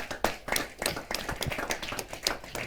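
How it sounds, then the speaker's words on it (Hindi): Audience at a Hindi poetry gathering applauds, a steady, fairly faint patter of many hands clapping at moderate distance with no talk over it. "जोरदार तालियों के साथ।"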